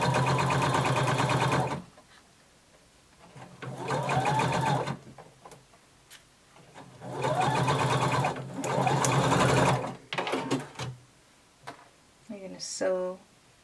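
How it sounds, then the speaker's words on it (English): Sewing machine stitching a shoulder seam with a 5/8 inch seam allowance, running in three loud, steady whirring bursts separated by pauses, followed by brief short runs and a voice near the end. "we're going to sew across the shoulder using a 5/8 of an inch seam allowance"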